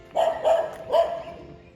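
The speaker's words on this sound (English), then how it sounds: "Of course you got the temple dog that's barking at me" A temple dog at a Thai monks' compound among teak-wood houses in the trees barks three times in quick succession, close and fairly loud, with short gaps between the barks.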